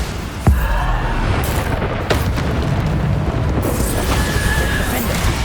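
Bombarda blasting curse explosions in Hogwarts Legacy, a sharp booming blast followed by dense rumbling debris and a few more sharp cracks, loud and close throughout.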